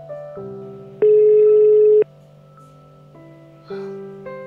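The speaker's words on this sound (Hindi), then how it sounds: "फोन हमेशा इनका एंगेज रहता है।" Steady layered telephone tones hum through a handset, with a much louder flat beep lasting about a second and later shorter tonal bursts, like a busy or engaged line on a call that won't connect.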